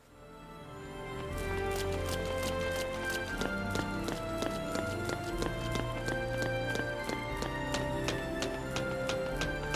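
A mount's hooves clip-clopping at a run in Final Fantasy XIII, a steady fast rhythm of crisp close hoof strikes that continues evenly without a break.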